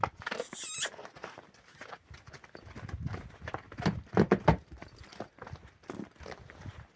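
Hooves of a stallion clop in an uneven walking rhythm on firm ground, close by, with a few louder bumps and faint background noise.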